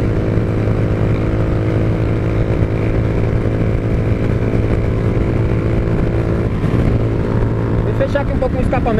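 A Honda Titan 160 motorcycle engine idles loud and close with a steady rumbling exhaust drone, the pitch shifting briefly near the end as the exhaust is partly covered by hand.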